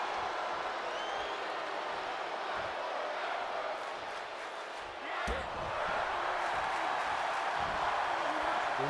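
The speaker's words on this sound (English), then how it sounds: "This crowd chanting fight forever" Steady roar of a wrestling video game arena crowd chanting, constant and loud throughout with a brief swell midway, no clear talk over it.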